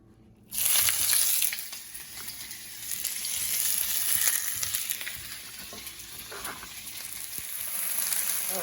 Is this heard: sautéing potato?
yes